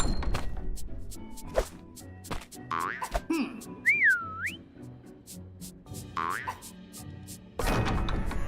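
A whistle sounds in a Grinch Christmas video game, calling the dog Max: a couple of rising and bending whistled tones amid cartoonish boings, thunks and game music, fairly close and clear.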